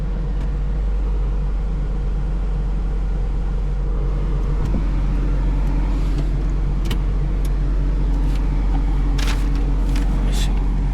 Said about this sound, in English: That vibration that you're hearing is normal on the vehicle.